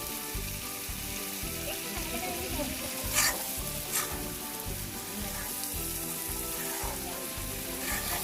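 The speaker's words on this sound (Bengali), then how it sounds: "আমরা চিংড়ি মাছগুলা মশলার সাথে ভালোভাবে কষিয়ে নেব।" Shrimp frying with turmeric and spices in a pan for a shrimp bhuna, sizzling steadily and loudly while being stirred, with brief scraping clinks from the utensil and no talking.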